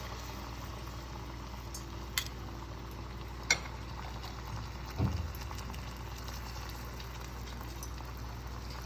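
Corn kernels, about two spoonfuls, bubble and fizz in oil held near 180 °C over low heat, giving a steady soft seething broken by a few faint clinks and taps.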